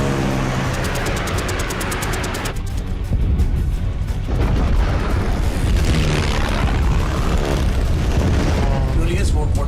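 Gunfire aimed at enemy aircraft in a World War II film action scene: loud booming bursts and rapid firing over engine roar, with voices and music mixed in.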